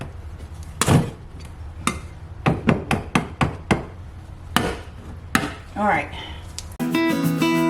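A hammer taps gently on a repair piece in an old 1970s mobile home, a series of sharp knocks in uneven rhythm, several close together, with a brief spoken word and some clatter near the end.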